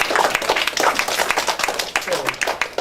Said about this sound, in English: Can we all clap for Master?